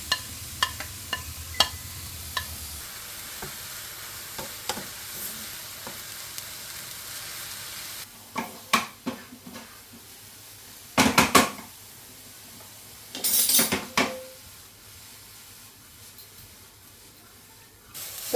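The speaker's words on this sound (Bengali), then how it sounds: "ফ্রাই প্যানটা গরম হয়ে গেছে আমি বিটটার মধ্যে দিয়ে দিচ্ছি হালকা সতে করে নেব" Beetroot sautés in a hot frying pan with no oil, butter or ghee, giving sharp bursts of sizzle and scraping stirs that break up quieter stretches, with clatters of the pan.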